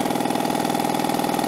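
A 1971 Johnson 4hp Seahorse outboard engine ticks over at idle, close and loud, with a steady, fast, even putter that stays uniform throughout.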